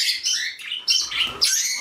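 Bourke's parrots in a home flock chirping, three short bright bursts of high tweets in quick succession, close and clear with no talk.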